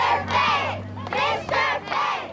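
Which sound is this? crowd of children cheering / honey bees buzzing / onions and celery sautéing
crowd of children cheering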